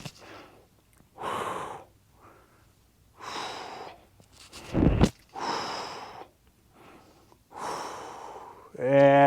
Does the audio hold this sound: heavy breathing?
yes